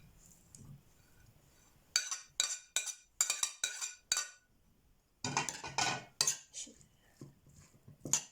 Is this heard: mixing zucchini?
yes